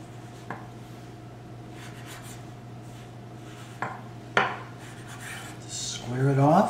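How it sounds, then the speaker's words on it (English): A regular kitchen knife cuts through rolled ravioli pasta dough, making a few sparse, soft taps and scrapes against the board in a quiet room, followed by a voice near the end. "Or if you don't have a pastry wheel, you can use a regular knife."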